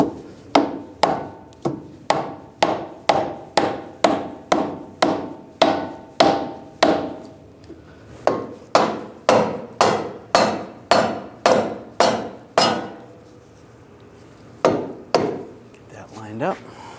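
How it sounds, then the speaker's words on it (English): A rubber mallet taps a front lower control arm into place on a 2013-2016 Dodge Dart, landing a long run of sharp, evenly spaced blows, roughly two per second, with a brief pause before a final few strikes. "You can take a rubber mallet and give it a tap in there as well."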